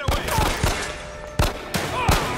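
Gunfire in the video game Into The Long Dark: several sharp, loud shots in quick irregular bursts, with brief gaps between them over a steady background hum.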